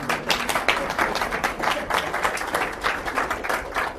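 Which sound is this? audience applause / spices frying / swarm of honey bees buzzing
audience applause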